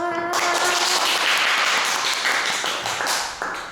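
A hall audience applauds at a youth debate programme, with dense, loud clapping that holds steady for several seconds and then begins to thin toward the end.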